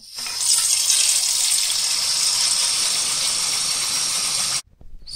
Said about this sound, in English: And then filling the water.